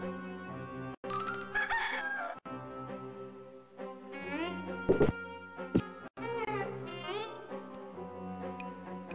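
In the Discworld 2 video game, a rooster crows in a couple of rising, wavering calls over continuous game music, with a few brief gaps and clicks.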